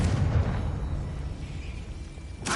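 A Confringo spell blast in the video game Hogwarts Legacy on PS5: a single deep boom that rumbles and decays over a couple of seconds, with a brief burst of noise at the end.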